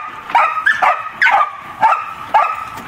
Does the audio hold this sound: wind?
no